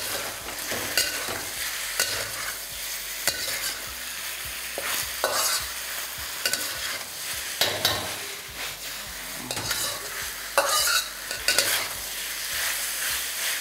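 Chicken with ginger and garlic fries in oil over a high flame, a continuous loud sizzle broken by repeated scraping and stirring strokes against the pan.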